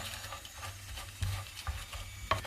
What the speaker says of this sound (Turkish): Kavrulan eriştelerimizi çevirdik. Gördüğünüz gibi biraz kızartıyoruz